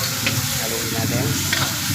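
A ladle stirs a pot of simmering mung bean stew with chicken, steady sizzling and bubbling underneath soft scraping strokes, close and continuous.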